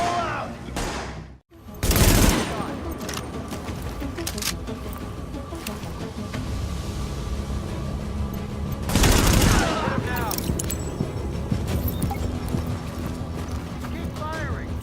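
Sustained gunfire in the video game Tom Clancy's The Division, repeated bursts and rattling shots with two louder flurries, under in-game voices talking.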